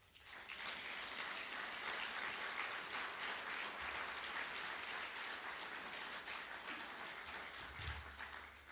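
Guests at a Moravian University societies dinner giving a round of applause, dense even clapping filling the room at steady volume from start to finish.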